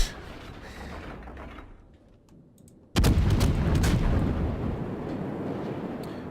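A naval cruiser's guns fire in World of Warships, a Tier 7 American New Orleans, with one sudden loud booming salvo after a low rumble, followed by a long decaying roar.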